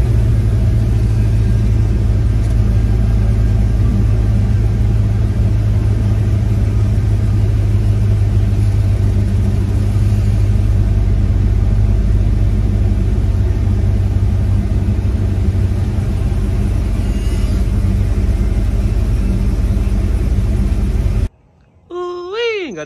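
A truck engine, a squarebody, runs steadily up close as it backs out of a driveway. A low, continuous rumble holds for about 21 seconds, then cuts off abruptly, followed by a brief unrelated tone.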